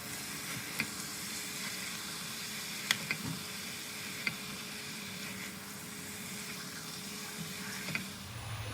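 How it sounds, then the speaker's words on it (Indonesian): Nasi tim filling stirred in a pan as its liquid cooks off, a steady soft sizzle running throughout with a few faint spoon taps against the pan, close and without talk. "Kita aduk sampai airnya kering, jadi nanti isian nasi timnya nggak becek."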